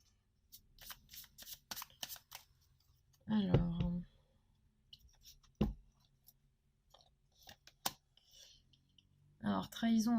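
Tarot cards are shuffled and drawn at close range, with soft papery riffles, light clicks and card taps in short bursts, and a voice briefly heard between them.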